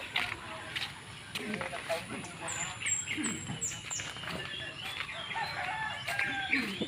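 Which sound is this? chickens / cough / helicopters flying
chickens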